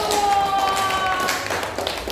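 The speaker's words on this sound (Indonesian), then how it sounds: "Tepuk tangan untuk kelompok 1." Students in a seventh-grade classroom clap for a group, giving a short, close burst of applause mixed with voices.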